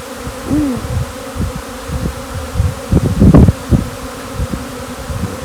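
Honeybees swarm around a large opened hive, giving a continuous close buzzing drone with individual bees swelling louder as they pass near, and no voices.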